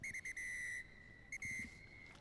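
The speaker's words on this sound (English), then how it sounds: "that's a loud whistle by the referee" A referee's whistle sounds at an under-20 rugby international between South Africa and Argentina: several short, sharp blasts, then two longer shrill ones, loud and clear over a quiet crowd murmur.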